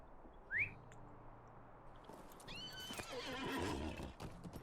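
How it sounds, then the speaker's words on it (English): A horse summoned in the Lord of the Rings Online video game: a short whistle call, then a rising whinny and the steady clip-clop of hooves approaching, moderately loud with outdoor ambience. "so let's call our horse"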